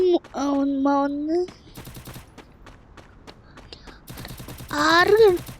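Rapid bursts of gunfire in Free Fire battle royale crackle in quick clusters between stretches of music-like tones and sound effects, fairly loud and busy throughout.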